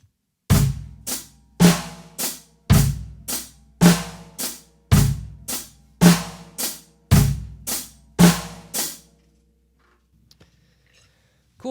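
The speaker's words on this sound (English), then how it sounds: "We're going to start out with a simple rock beat today." A simple beginner rock beat on a drum kit, played alone in about eight evenly spaced, loud, ringing hits with punchy low thumps and bright cymbal wash, ending abruptly and followed by near silence.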